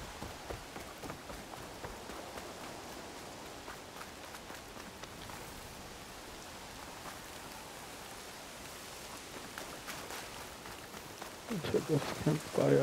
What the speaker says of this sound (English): I'm escaping this rain.